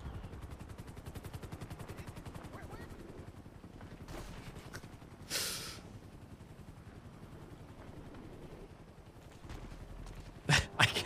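Sustained machine-gun fire in the NoPixel GTA roleplay video game, a steady rapid rattle of shots that runs under a helicopter-like drone, with a whoosh midway and sharp louder blasts near the end.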